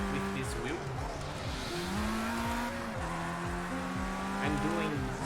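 Race car engine from a racing video game played on a Thrustmaster open wheel add-on, shifting up and down in repeated rising pitch sweeps with tire squeal, loud and continuous, with a voice talking over parts.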